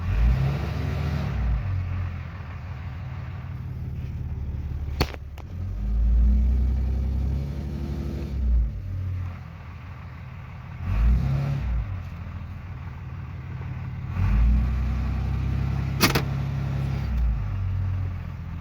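Engine of a fourth-generation Ram 2500 pickup revving against the engaged parking brake, loud and close with deep rumbling surges that rise and fall in three or four pushes, a few sharp clicks in between.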